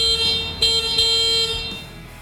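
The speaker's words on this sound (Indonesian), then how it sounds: "tombol klakson yang suaranya seperti ini" Horn of a Davigo Dragon S electric motorbike sounding a steady electronic tone that sustains across the clip with a couple of brief re-presses, loud and close, alone without talk.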